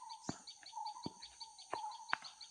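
Sparrow-like chirps repeat in quick bursts at a moderate distance, with a few sharp clicks or taps breaking through.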